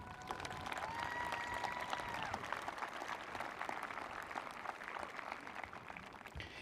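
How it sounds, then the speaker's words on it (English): A graduation audience at Sandwich High School applauds steadily with dense, sustained clapping from a large crowd, heard from a distance with some faint voices mixed in. "Big round of applause for everybody,"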